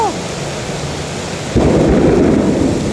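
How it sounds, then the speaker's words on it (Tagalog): Thunder rumbles loudly through steady rain at an MRT station area, a deep broadband roll swelling in halfway through and holding over the rain's hiss. "May kulog."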